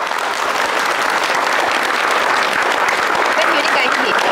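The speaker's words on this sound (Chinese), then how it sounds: "咱即马以热烈掌声来欢迎新郎甲新娘全家伙啊" A crowd at a wedding gathering applauds the bride, groom and their family with loud, continuous, even clapping that fills the whole stretch, with a faint crowd murmur underneath.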